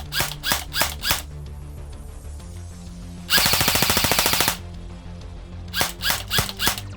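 A VFC MCX airsoft rifle fired on semi-auto, with a few sharp separate clicking shots at the start and end, and a loud mechanical buzzing burst in the middle.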